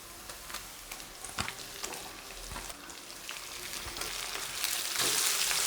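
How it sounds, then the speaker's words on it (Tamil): Half a kilo of cleaned, cut chicken frying and being stirred in oil with crushed garlic and green chilli for a garlic pepper chicken gravy; a steady sizzle with scattered spatula scrapes swells louder toward the end, with no talk. "சிக்கனையும் சேர்த்து நல்லா எண்ணெயில் மிக்ஸ் பண்ணி விட்றேன்"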